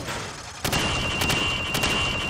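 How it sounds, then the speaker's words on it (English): Gunfire fired from the hip on a firing range in Call of Duty 4: Modern Warfare, three sharp, loud shots at roughly even intervals over a steady background hum. "Now, shoot at the targets while firing from the hip."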